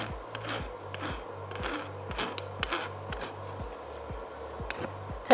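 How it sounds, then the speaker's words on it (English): A blacksmith files a lump off hot metal with a worn but still usable metal file, producing about ten steady, rhythmic rasping strokes close by with no talk. "I've got this other file that still has a little bit of life left in it, and it'll file a lot better than that other one."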